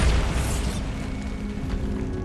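A Bombarda blasting spell explodes in Hogwarts Legacy: a loud, close burst with a deep boom up front that settles into a low, rumbling tail of debris.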